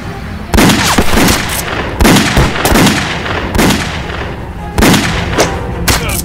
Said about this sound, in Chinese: 秦牧灵，我引他开枪，你把他揪出来。